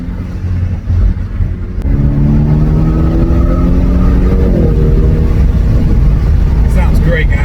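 A BMW fitted with an AWE aftermarket exhaust revs, its deep droning note climbing and settling in pitch across several seconds, loud and close, after a rough idle at the start.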